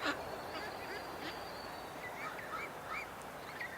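A row of ducks perched on a rooftop near a chimney gives faint, distant quacks and honks, several scattered calls over steady outdoor background noise.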